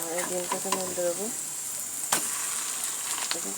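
A fish roe fritter bound with gram flour frying in oil and being flipped, with a bright steady sizzle, a few utensil clicks and a sharp tap midway, close by; brief tonal voice sounds appear early.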